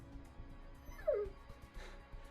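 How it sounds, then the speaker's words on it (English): A dog whimpering with a few soft yips in the video game Zero Time Dilemma, faint whines and short cries over a quiet background hum. "Dog."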